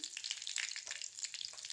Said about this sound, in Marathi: आता तेल तापलंय म्हणून त्यात थोडा कढीपत्ता घातला.